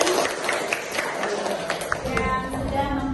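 A classroom audience applauds Miss Tika and Mbak Doni with light, scattered clapping that continues under a speaking voice.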